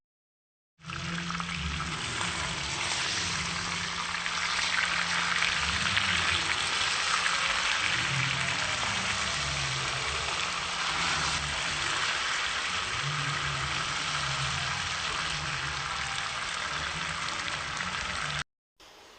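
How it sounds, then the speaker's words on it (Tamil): Fish fries in hot coconut oil with curry leaves for a beach-style fish fry, a dense, steady sizzle and crackle that holds at an even loudness throughout, alone, with a low hum underneath. "இது கூட கொஞ்சமாக கருவேப்பிலை போட்டு சூப்பராக பொரித்து எடுத்திங்கன்னா சூப்பரான மீன் வறுவல் ரெடி"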